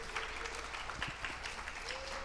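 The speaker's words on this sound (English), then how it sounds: "they deserve a big round of applause because they made this happen." An audience at a party event gives a steady round of applause, dense and continuous throughout, with a faint voice mixed in.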